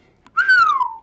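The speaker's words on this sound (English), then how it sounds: "Anytime y'all see any type of bullish uptick, I got a whistle." A single whistle sound effect plays on a cryptocurrency livestream: one clear, fairly loud tone that rises briefly and then glides slowly downward, lasting under a second, with no talk over it.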